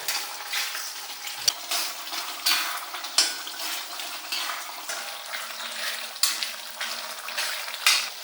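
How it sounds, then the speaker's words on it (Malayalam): A pot of mushroom masala curry bubbling as it is stirred, with soft scraping strokes and gentle simmering sizzle at a fairly low level, close by and without talk. "തിളച്ച് വരുന്നുണ്ട് അത്യാവശ്യം ഒന്ന് ഇളക്കി നോക്കട്ടെ"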